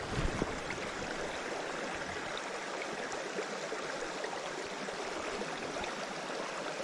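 Steady, broadband rush of a brook trout creek flowing over rocks, close and constant with no pauses or talking.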